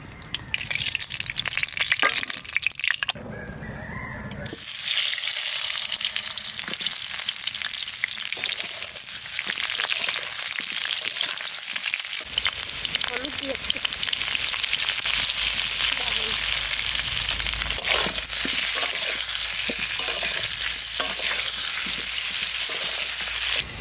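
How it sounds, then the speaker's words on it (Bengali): New potatoes frying in a little oil in a village-style kadai, a loud, dense sizzle with stirring clatter throughout, the crackle shifting as the potatoes are turned. "আলুটা একটু ভেজে নেব একটু তেল দিচ্ছি"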